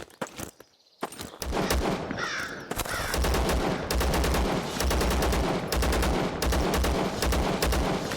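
Rapid bursts of gunfire from the survival shooter Zero Sievert, loud and close, in repeated volleys over several seconds with a short quiet gap near the start.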